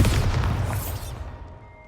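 The Bombarda spell goes off in Hogwarts Legacy with a single booming blast that erupts loudly at once and then rumbles and fades away over about a second.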